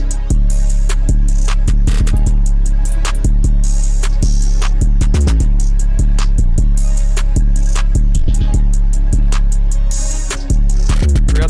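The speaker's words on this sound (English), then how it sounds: "So my first of two 808 patterns sounds like this." An 808 bass pattern in an FL Studio beat built in a bouncy drum style, with deep booming sustained bass under a busy, steady pattern of crisp hi-hats and punchy drum hits, loud and continuous.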